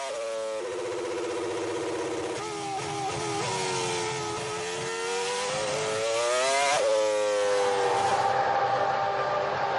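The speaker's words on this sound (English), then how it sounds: "But his engine is still cutting out." A McLaren Mercedes Formula 1 car driven by Kimi Raikkonen has an engine that is cutting out. Its loud, steady, high-pitched whine keeps stumbling and dipping in pitch before it climbs again.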